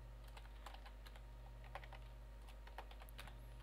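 Quick, light keystrokes tap on a computer keyboard in an irregular stream, close and fairly quiet over a steady low electrical hum.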